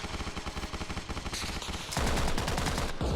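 Machine gun fire in the military shooter game Arma Reforger, loud, rapid, continuous bursts of close automatic shots, with a heavier burst toward the end and no talking.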